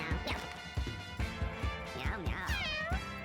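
Cartoonish cats meow repeatedly in the video game Mewgenics, with rising and falling cries over punchy in-game hits and thumps, loud and busy throughout.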